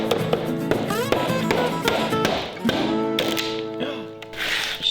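A wooden beehive box being repurposed is struck and knocked to break a piece off, giving a series of sharp close taps and knocks in an irregular rhythm across the clip.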